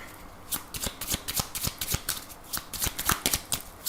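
A 32-card deck of playing cards being shuffled during a card reading, steady rhythmic riffling and snapping bursts repeating close by and fairly loud.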